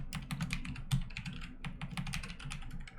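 Fast, steady typing on a computer keyboard, close and clear, with dense clusters of crisp key clicks and a few louder strikes, with no talking over it.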